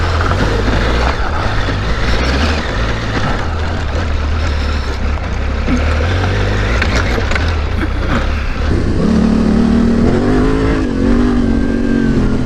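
A Yamaha Tenere 700 motorcycle engine accelerates hard while ridden off-road, a loud, continuous close-up roar that holds steady and then climbs in pitch near the end, with no talking.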